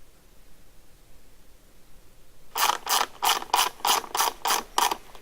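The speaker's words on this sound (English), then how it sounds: "Finally, secure the upper bracket to the shield with the washer and nut." A ratchet or wrench tightens the washer and nut securing an upper bracket to the shield of a BCS two-wheel tractor sickle bar attachment, heard as about eight rhythmic, evenly spaced ratcheting bursts after a quiet start.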